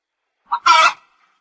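A rooster being grabbed and pressed down lets out one short, harsh squawk, close and loud after a moment of silence.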